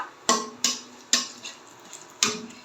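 Black cumin seeds fry in oil while a spoon stirs them, giving four sharp scraping clacks against the pan at irregular intervals over a soft, faint sizzle.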